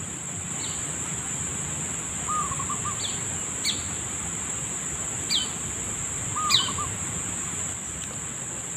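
A wild bird calling from a dry tree outdoors: short, faint chirps repeated at irregular intervals, somewhat distant, over a steady high insect drone and background rustle.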